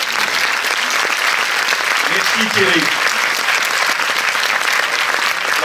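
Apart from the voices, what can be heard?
audience applause for Thierry Frémaux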